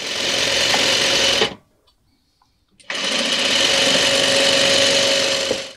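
A sewing machine stitches strips of varying sizes onto a crazy quilt block, running loud and steady up close, then stopping for about a second before a second sustained run.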